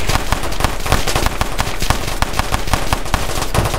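Automatic fire from a switch-equipped Glock pistol in the Roblox game Chicago Wars, loud rapid bursts of shots that run almost continuously with brief gaps.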